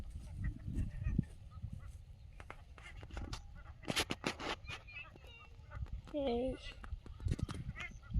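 A duck grazing in a waterlogged field gives a brief nasal quacking call, faint and distant, amid outdoor wind and handling noise with a short spoken word.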